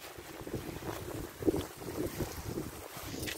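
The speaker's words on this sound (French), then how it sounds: "Il y a beaucoup de vent aujourd'hui, c'est vraiment chiant." Strong gusting wind buffets a microphone outdoors in a garden, a continuous roaring rush with swelling gusts and no voices.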